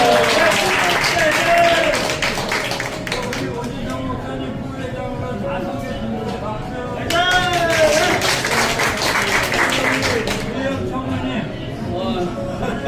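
Applause at a year-end party of a Los Angeles soccer club, clapping bursts spread across the room and mixed with talk and chatter throughout.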